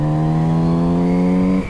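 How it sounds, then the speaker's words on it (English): A Kawasaki Z900 RS motorcycle engine revs hard with a loud, close induction roar and exhaust note, a steady rising buzz held for over a second before cutting back abruptly. "A lovely induction roar and actually some volume out of the exhaust"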